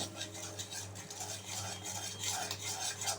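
Steady scraping and stirring of spice masala in a metal pot for vegetable biryani, a soft rhythmic utensil scrape over a low background hum, fairly faint and close.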